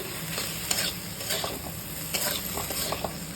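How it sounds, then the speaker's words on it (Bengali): Potatoes fry in a pan for a fish curry, a continuous sizzle broken by several quick stirring scrapes and clinks, close and alone without talk. "তো দিয়ে এটা করে আবার একটু কিছুটা সময় আবার একটু ভাজা ভাজা করে নেবো"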